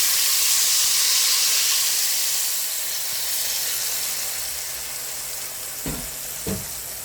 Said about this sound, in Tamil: இப்போ எல்லாத்தையும் போட்ட பிறகு கரைச்சி வச்ச புளியை ஊற்றிக்குவோம்.